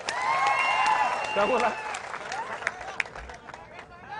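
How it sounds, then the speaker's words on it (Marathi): A political rally crowd applauds in a loose burst of clapping that tapers off, heard under a speaker's amplified voice with some crowd murmur. "नितेश राणेंचं टाळ्या वाजवून जरा अभिनंदन करा"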